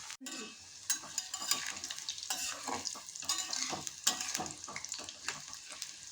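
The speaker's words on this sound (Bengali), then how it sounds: "এবার একটু নেড়ে দিই নাহলে লেগে যাবে" Spinach pakoras crackle and sizzle in hot oil while being stirred, with steady close frying hiss and scattered scrapes and clinks of a utensil against the pan.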